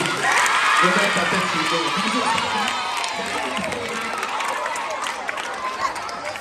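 Schoolchildren at an international school prefect announcement cheer, shout and clap together in a loud, lively crowd. The noise holds steady throughout, with voices calling out over it.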